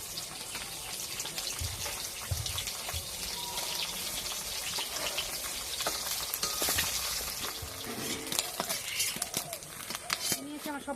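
Eggs frying in hot oil for a pumpkin-and-egg dish, a steady crackling sizzle that runs through the whole stretch with small spits and pops.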